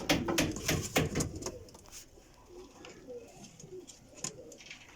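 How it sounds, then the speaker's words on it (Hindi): Teddy pigeons coo close by in repeated soft guttural phrases, with some rustling and fluttering early on and faint background noise. "टैडी कबूतर जे"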